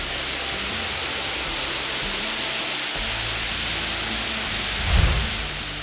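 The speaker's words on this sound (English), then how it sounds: "starting with this roadside waterfall" Roadside waterfall high in the Ecuadorian Andes, a steady broadband rush of falling water that holds constant and close throughout, with a brief louder thump near the end.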